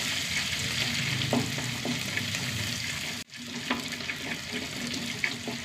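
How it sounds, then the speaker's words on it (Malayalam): Sliced onions and curry leaves fry in a pan with a loud, continuous close-up sizzle and faint stirring clicks, briefly dipping for a moment midway. No one speaks. "ഉള്ളി ഒന്ന് മൂത്ത് വരട്ടെ."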